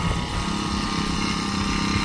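A small 50 cc petrol engine on a Baliraja cultivator runs steadily and continuously at close range, a buzzing drone in a cabbage field with no talk over it.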